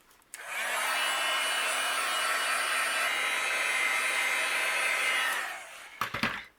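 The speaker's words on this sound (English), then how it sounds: "I'm going to use my heat gun and dry this just so we can continue." Heat gun drying a handmade card, a steady loud blowing whoosh that starts abruptly, holds for about five seconds, then cuts off, followed by a few handling knocks.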